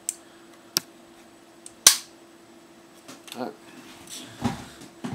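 A magazine seats into a GHK AKM airsoft rifle with sharp, distinct clicks, one very loud snap near the middle, followed by softer handling rattles.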